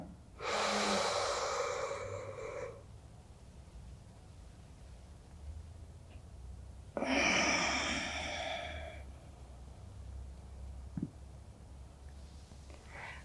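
Slow breaths during a breathing exercise, two long breathy exhalations separated by a quiet pause, close and soft.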